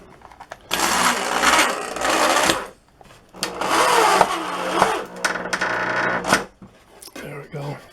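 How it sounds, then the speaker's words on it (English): A power driver runs a screw into a wooden tapered table leg in several loud, close bursts of whirring, separated by brief pauses and a final short burst. "I'll run a screw in."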